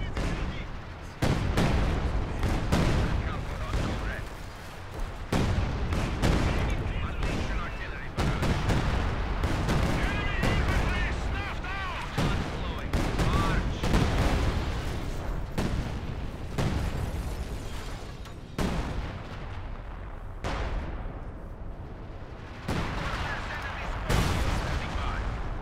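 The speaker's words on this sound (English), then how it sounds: "we're going to bombard the crap out of them" Artillery bombardment in Company of Heroes 2, with repeated heavy shell impacts and booming blasts arriving in an irregular barrage for about half a minute, mixed with gunfire. Someone talks over the shelling at times.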